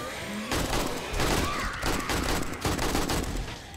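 Rapid AK rifle bursts firing 7.62 rounds in the 7 Days to Die survival game during a zombie horde night, shots crackling in quick fusillades with dull booms underneath at moderate loudness and no talking.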